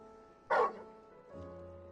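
A dog in the video game Final Fantasy XVI lets out one sharp bark, close and brief, over a quiet tonal game background that swells slightly afterward.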